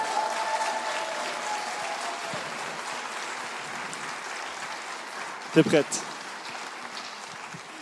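Church congregation at a Sunday baptism service clapping for a woman called up to give testimony, a continuous wash of applause with a steady tone early on and a brief spoken question near the end.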